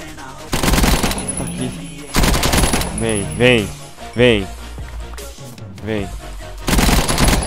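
Bursts of loud automatic gunfire from a weapon in Minecraft, used against zombie pigs, come in three rapid rattling volleys, with a player talking in the gaps between them.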